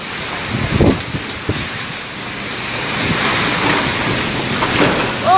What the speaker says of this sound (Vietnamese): Gió nó lớn ghê lắm.